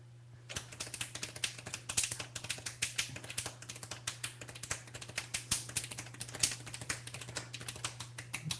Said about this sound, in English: can you give us a quick sample of the hand snapping